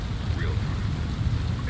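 Steady rain in the nighttime city of the detective game Shadows of Doubt, a dense, even hiss with low rumble that stays constant throughout, no distinct drops or thunder standing out.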